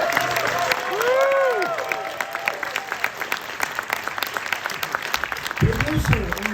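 Audience applauding at a film premiere at the Museum of the Moving Image, a burst of clapping that thins into scattered claps, with a voice and some tonal sounds over the start.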